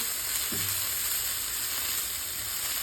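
Cabbage and carrot thoran with grated coconut sizzles softly in a pan while being stirred, a faint steady frying hiss with an occasional scrape of the spoon.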